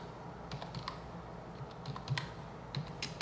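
One-handed typing on a computer keyboard: a close, uneven run of light key clicks with short pauses between bursts and no voices.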